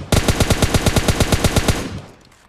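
Rapid burst of automatic gunfire in PUBG Mobile Lite, roughly a dozen loud, evenly spaced shots over under two seconds, then a short fading tail.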